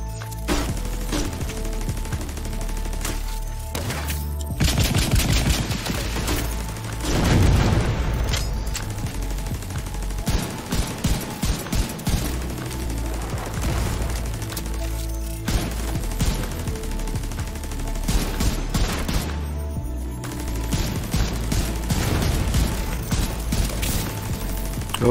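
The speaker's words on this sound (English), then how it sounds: "Shots." Heavy gunfire erupts in The Division 2 during a heroic manhunt bounty, with sustained automatic bursts, booming impacts and dense shots rattling almost continuously and loudly throughout.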